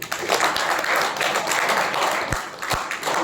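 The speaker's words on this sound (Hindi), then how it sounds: "तालियां बजाइए" A classroom audience claps together in a brief, dense patter of applause, with a few sharper individual claps standing out near the end.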